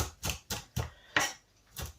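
Kitchen knife finely chopping parsley on a chopping board, five sharp close taps in an uneven rhythm with short pauses between, nearby and clear, no voices.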